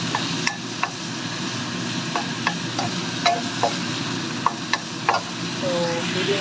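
Meat stir-fried with black mushroom in a pan, a steady sizzle with repeated sharp scrapes and clacks of the spatula, close and fairly loud.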